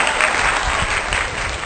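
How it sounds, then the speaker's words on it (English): A short, steady burst of applause, dense and even, from a group clapping together at moderate loudness throughout. "applause for that"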